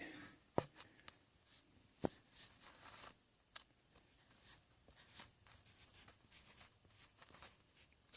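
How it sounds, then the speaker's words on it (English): A pen or marker writing a date on a 60-watt bulb in an old shop trouble light: soft, faint scratchy strokes up close, with a couple of small sharp taps and no talking. "So there it is in the trouble light, and I'm going to write the date."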